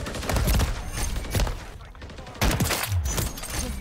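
Loud, close bursts of automatic rifle fire from Call of Duty MW3, in dense volleys with a brief lull midway before the shooting resumes.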